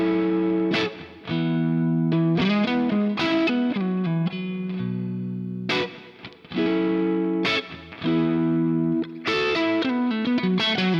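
Electric guitar played through a Neural DSP Quad Cortex with stereo delay and hall reverb: distorted, sustained chords and picked notes ring out loud and alone, with echoing repeats and a spacious wash between phrases.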